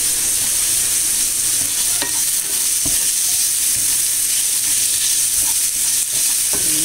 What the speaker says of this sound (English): Just saute this. It's getting soft now